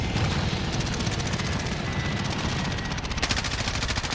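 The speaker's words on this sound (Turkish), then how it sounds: "Helikopter sıkıyor ya." A helicopter in Call of Duty Warzone fires its guns in dense, continuous bursts of gunfire over a loud, steady rotor and engine roar, close and sustained throughout with no talk.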